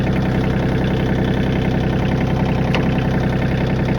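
A Kioti CK27 compact tractor's engine runs at a steady, loud, close idle with an even throbbing diesel rhythm while the gears are shifted, with one faint click partway through and no speech.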